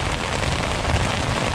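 Heavy rain pours steadily during a spring thunderstorm in the Boundary Waters wilderness, a dense, loud, continuous hiss with a low rumbling undertone and no voices.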